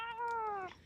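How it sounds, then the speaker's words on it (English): An upset cat lets out a single close, loud yowl under a second long, a drawn-out tonal meow that slides slightly downward before cutting off. "don't torture your cat live on the internet"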